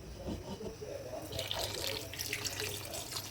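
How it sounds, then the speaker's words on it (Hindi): Warm water poured from a vessel into a cooking pot of stuffed round gourd, a steady gurgling splash that grows brighter and fuller partway through, alone without talk. "पानी हम थोड़ा सा वार्म वाटर लेंगे और उसको इस तरह के एक बर्तन में जिसमें कीफ होगी उससे पानी डालेंगे"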